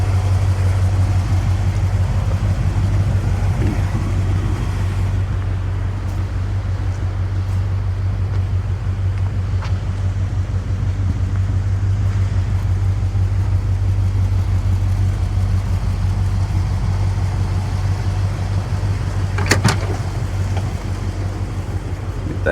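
An older project camper van's engine idles steadily in a low, constant drone that holds unchanged, with no talking and only a couple of faint clicks near the end.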